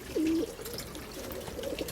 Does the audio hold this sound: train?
no